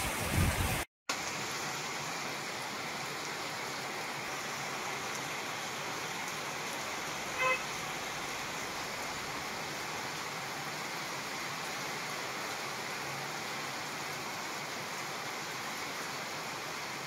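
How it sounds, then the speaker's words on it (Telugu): Heavy cyclone rain in Warangal district falls as a steady, dense hiss with no break, broken only by a short cut near the start and a faint click midway. "ఉమ్మడి వరంగల్ జిల్లా వ్యాప్తంగా తుఫాన్ ప్రభావంతో భారీ వర్షం కురుస్తోంది."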